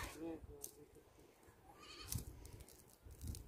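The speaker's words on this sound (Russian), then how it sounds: "Ну мои козы там орут." Goats on a small homestead bleat loudly in short calls at a middle distance, several cries spread across a few seconds against outdoor background noise.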